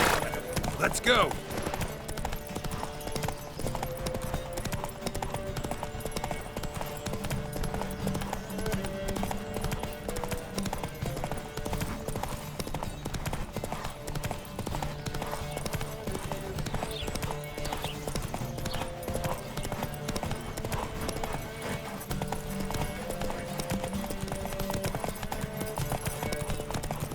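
Horses gallop at a race start in The Witcher 3 on Zerrikanian Bay, with steady hoofbeat clip-clop running throughout under continuous game music and occasional voices.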